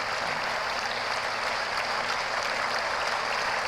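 Applause track in the video game Contradiction: a steady, dense wash of many hands clapping at even loudness throughout, with no talk over it.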